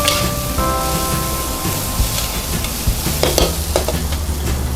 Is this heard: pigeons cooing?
no